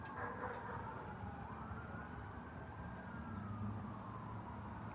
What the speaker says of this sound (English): although you can hear the sirens right now.